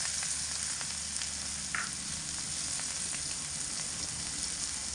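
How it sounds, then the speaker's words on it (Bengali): Chopped onion and crushed garlic frying in a pan, an even, moderately loud sizzle with soft crackles and one brief metallic squeak, steady throughout with no voices. "একটা বড় সাইজের পেঁয়াজ কুচি করে নিয়েছি দিয়ে দিলাম"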